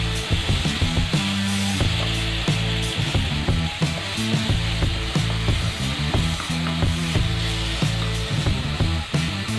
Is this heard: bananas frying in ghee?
yes